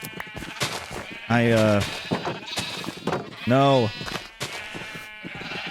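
Sheep in the video game Minecraft bleat twice, each a loud, wavering bleat about half a second long, spaced a couple of seconds apart, while a person keeps talking over and between the calls.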